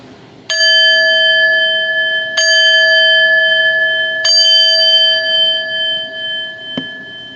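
A ringing chime is struck three times in slow succession to close an episode, each loud bright tone sustaining and overlapping, followed by a faint click near the end.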